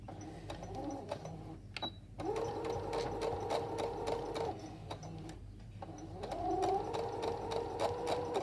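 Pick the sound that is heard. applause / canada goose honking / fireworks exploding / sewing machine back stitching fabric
sewing machine back stitching fabric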